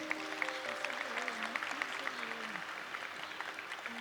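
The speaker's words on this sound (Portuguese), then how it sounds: "Pode aplaudir de novo." Audience clapping inside a Catholic church during a sermon, a steady spread of many hands for several seconds with a sustained musical or vocal tone running underneath.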